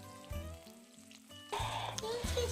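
Cumin seeds temper in a generous amount of hot oil for a Bengali lote fish jhuro, bursting into a loud, crackling sizzle halfway through after a quieter start, with steady background music throughout.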